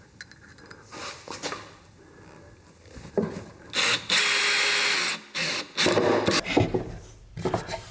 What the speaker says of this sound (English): I've got the clutch set on my drill, and all I need to do is hold it in place.